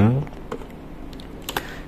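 Keys clatter on a computer keyboard as someone types a web address, a few quick, light taps close by, with a voice at the very start.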